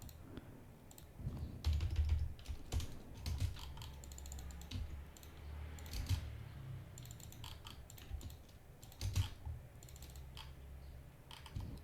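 Keys clatter on a computer keyboard while someone models in SketchUp, with irregular bursts of typing and occasional heavier key presses, close and fairly quiet.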